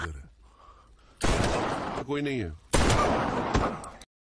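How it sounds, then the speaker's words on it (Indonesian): Gunfire rings out in an Indonesian gangster-versus-police film scene: a few sharp, loud bangs punctuate a tense soundtrack, with shouting voices in between. "Lalu Alius menembak mereka."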